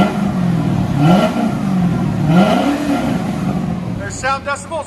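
A 1990 Chevy Corvette C4 with 5.7L V8, CORSA cat-back dual exhaust and high-flow cat revs twice, rising and falling deep roars close by, followed by a brief voice at the end.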